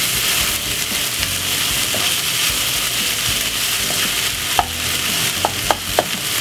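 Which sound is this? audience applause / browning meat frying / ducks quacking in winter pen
browning meat frying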